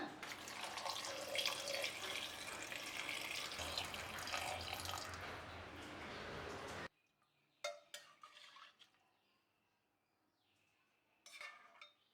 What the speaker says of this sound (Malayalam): ചെറു ചൂടുവെള്ളം ഒഴിക്കുകയാണ്